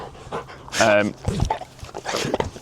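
A dog pants close by in quick, uneven bursts, with a short whining note midway.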